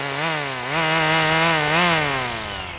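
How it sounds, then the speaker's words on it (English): A battery string trimmer spins up close and loud, its whine rising and wavering as the line cuts off excess string, a continuous motor tone with no voices. "so I'll go ahead and spin it up and cut off a little excess right away"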